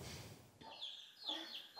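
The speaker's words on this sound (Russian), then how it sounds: "Куры в кабинете математики." Farm chickens kept in a school math classroom give short, throaty clucks in a few separate bursts, fairly close and quiet, with no talking.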